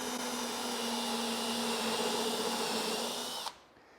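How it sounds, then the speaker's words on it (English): A power drill bores a hole in wooden boat planking, whining steadily at close range for a few seconds before stopping abruptly. "start about an inch up and drill a hole"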